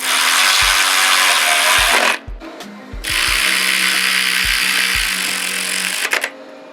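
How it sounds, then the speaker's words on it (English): Socket wrench and open wrench tightening a clamp on a Subaru BRZ / Toyota 86 exhaust, heard as sparse metallic clicks and taps under a loud, steady broadband hiss that briefly cuts out midway. "Grab your 14 millimeter socket and your 12 millimeter wrench and tighten it down."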